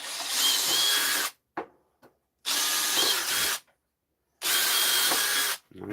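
Power drill boring pilot holes through wood while building a jig: three sustained whirring bursts of about a second each, separated by short pauses and small clicks, close and loud.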